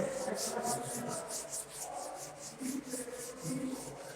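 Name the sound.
rubbing out writing on a board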